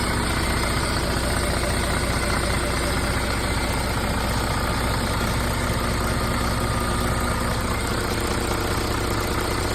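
A Volvo TAMD 74 marine diesel engine idling steadily and loudly after an injector change, a continuous low rumble with even mechanical chatter throughout, heard up close in a boat's engine room.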